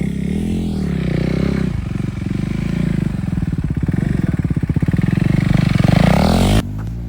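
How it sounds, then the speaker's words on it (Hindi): A motorcycle engine idles and then revs up as the bike rides off a boat, its throbbing putter growing louder as it pulls away, with some clattering and scraping underneath. "बाइक निकल रही है नाव से।"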